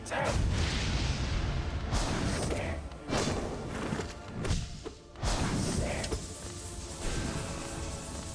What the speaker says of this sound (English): Did not mean to shoot a spell there.